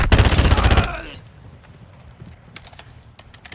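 Call of Duty DMZ gunfire on the island, a loud rapid burst of automatic shots in the first second, then quieter scattered distant shots and rattles.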